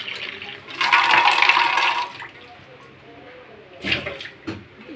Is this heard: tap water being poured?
yes